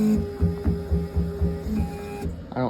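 Spindle of a Vanguard 3000LT engraving machine running, a steady mechanical hum with a rhythmic throbbing pulse about twice a second, close, cutting off near the end.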